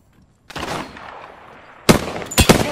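Gunfire in the Apex Legends video game: a sustained rattling burst of shots, then two sharper, louder volleys close together, all loud and without talk.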